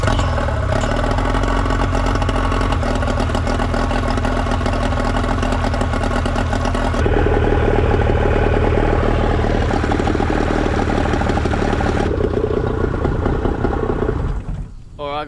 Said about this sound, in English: I run the engine just with the fresh water first for a few minutes